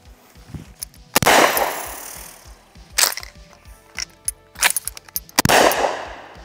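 Loud, close shotgun blasts from a Maverick 88 Cruiser firing mini shells at paint cans outdoors, three sharp reports with echoing tails, separated by softer mechanical clicks and clacks of the pump action.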